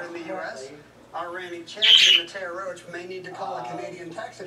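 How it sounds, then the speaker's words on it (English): Birds let out loud, harsh squawks close by, the sharpest burst in the middle, mixed in with people talking. "The birds are like, we agree"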